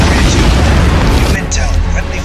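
A loud, booming missile explosion in a video game, a heavy rumbling blast that fills the clip and tails off near the end.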